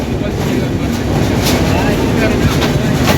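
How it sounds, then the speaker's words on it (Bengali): The Benapole Express passenger train pulls into Kushtia Court station with a loud, steady rumble and rolling rail noise, close by and continuous throughout. "সাতশো পঁচানব্বই বেনাপোল এক্সপ্রেস কুষ্টিয়া কোর্টে প্রবেশ করলো"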